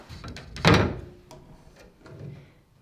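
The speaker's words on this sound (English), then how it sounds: "I turn around and this door is opening." A hotel closet door swings open with a sharp thunk followed by a softer knock and faint creaking in a quiet room.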